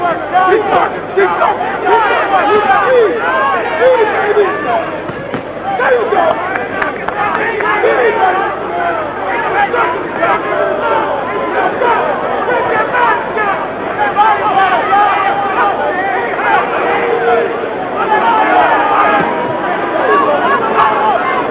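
Boxing crowd at a pro fight between Demarcus Corley and Randall Bailey, a steady roar of murmuring and shouting spectators that swells and dips over the whole stretch, with talk mixed in.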